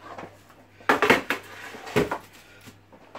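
A hot, softened acrylic sheet is pulled out of an oven, with a clattering of metal trays and racks, a cluster of sharp knocks and scrapes, then a second clunk, close by, with no speech.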